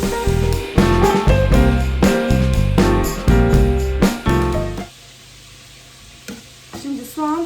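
Meat caramelizing in a hot pan alongside onion, while cooking spiced meat with chickpeas: loud crackling sizzle with rhythmic stirring scrapes, then dropping to a quieter hiss near the end with a few light taps.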